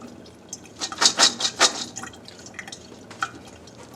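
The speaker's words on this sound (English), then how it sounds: "drain these. That also helps wash them a little in case there's any dirt or something lingering." Rinsed white beans draining in a colander, water dripping and trickling in a few brief splashy bursts that fade to scattered drips.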